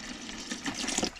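Water pours down a sink drain in a 2005 Jayco Seneca RV during winterization. The trickling gurgle is soft and close, swells briefly near the end, and plays with no talking.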